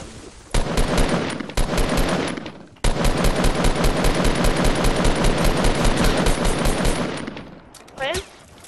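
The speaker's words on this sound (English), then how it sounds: "Wait, I heard a gunshot." Automatic gunfire in the Fortnite video game, long rapid bursts of loud close shots with brief gaps between volleys, followed by a short swooshing sound near the end.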